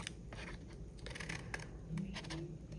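Scissors snip out squares from the bottom corners of paper for a vintage album, a quick run of small crisp cuts, close and quiet.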